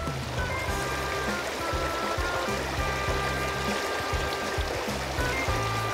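A river swollen and muddy after rain rushes steadily nearby, a constant broad wash of flowing water, with a low motor-like hum running underneath.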